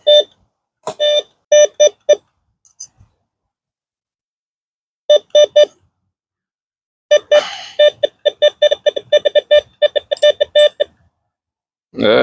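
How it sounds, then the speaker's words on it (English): A metal detector sweeps over buried scrap such as a bent clothes hanger or welding rod, giving repeated sharp electronic beeps in short bursts separated by silent gaps. "Something else is beeping right here."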